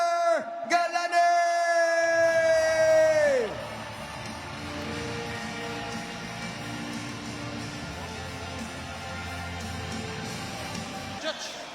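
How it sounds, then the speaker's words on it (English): A sellout crowd at a ONE Championship MMA fight in Jakarta roars and cheers with a steady arena din, beginning under a loud musical sting and continuing while an announcer talks over the noise. "Sellout crowd in Jakarta"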